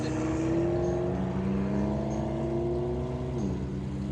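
A black McLaren MP4-12C sports car pulls away at a Ferrari enthusiast meet, its engine note rising steadily through the gears and then dropping, a loud, continuous drone close by with no talk over it.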